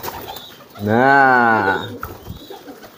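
A domestic pigeon coos once in a drawn-out courting call lasting about a second, close and clear, with someone speaking briefly before it.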